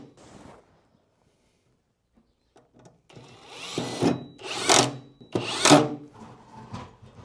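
A cordless screwdriver drives screws into wood during attic insulation renovation, with a few short whirring bursts rising in loudness after a quiet stretch, close by and without talk.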